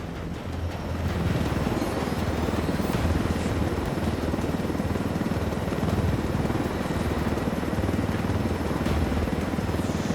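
A helicopter in the open-world shooter Ghost Recon Wildlands gives a steady, loud rotor drone with a rumbling low thrum. It stays constant and close for the full ten seconds, with no one talking.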